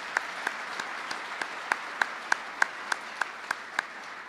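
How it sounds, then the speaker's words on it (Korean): Steady, evenly spaced claps, about a dozen in a row, fairly faint and without any talk, at a corporate award ceremony marking the 48th anniversary of GS Caltex. "박수 부탁드립니다."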